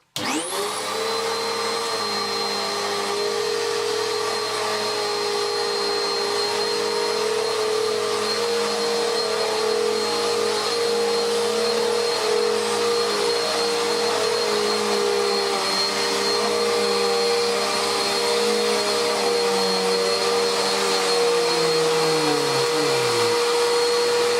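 A refurbished Dirt Devil WDD6110 upright vacuum cleaner with brush rolls switches on and runs steadily for a long stretch, loud and close, with a whining motor tone and no talking.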